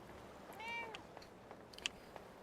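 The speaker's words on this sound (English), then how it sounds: "Oh, there's a cat here." A cat in the Fallout 4 Far Harbor DLC gives a single clear meow, close and fairly soft, followed by faint clicks and small game noises.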